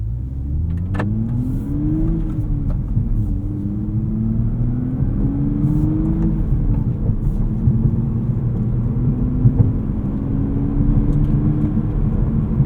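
A 2024 Toyota GR Supra with a six-speed manual hums steadily while driving in normal mode, with a low, muted exhaust rumble and gentle rising and falling engine pitch as it shifts through gears, continuous throughout.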